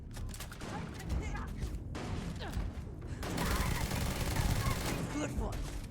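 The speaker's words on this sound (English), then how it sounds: "This shotgun is not very good." A shotgun in Starfield fires amid a chaotic firefight, with repeated booming shots and crashes that grow denser and louder in the second half, and a voice talking faintly underneath.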